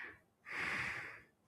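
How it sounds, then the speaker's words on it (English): A single audible breath, a short snorting inhale or exhale of about a second, faint and close against near silence during a casual indoor live session. "I hear breathing."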